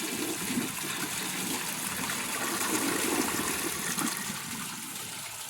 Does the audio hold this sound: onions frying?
no